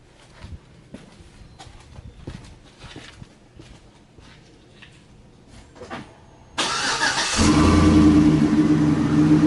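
Faint handling clicks and knocks come first, then a Wabco air ride compressor on a Trailblazer or SAAB 9-7X, wired to a relay, kicks on with a sudden loud buzzing hum and keeps running steadily and close.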